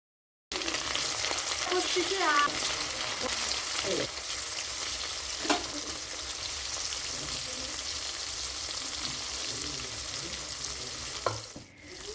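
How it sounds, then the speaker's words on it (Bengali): Snakehead fish pieces fry in hot mustard oil, giving a steady, close, dense sizzle that lasts throughout, broken by a few light clinks and stirring sounds. "এখন একটা একটা করে মাছ তেলের মধ্যে দিয়ে দেবো"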